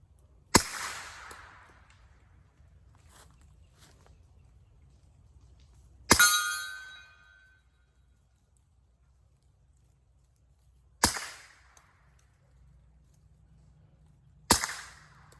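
Four sharp, well-spaced shots from a Kel-Tec Sub2000 carbine firing subsonic 9mm at a steel target, each a crisp crack with a short ring, separated by several seconds of near silence.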